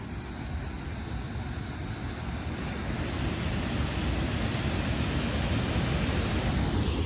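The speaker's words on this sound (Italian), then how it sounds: "guarda là, che potenza dell'acqua" Powerful rushing river water at the Oliero caves near a weir, a loud, steady broadband roar that fills the whole stretch without letup.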